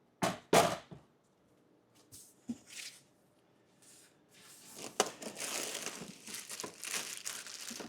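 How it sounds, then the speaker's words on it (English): Plastic wrapping being pulled off hydroponic indoor garden parts, with sharp close crinkles at first, a few isolated rustles, then longer stretches of crackling, crumpling plastic handled near the mic. "Let's take the plastic off."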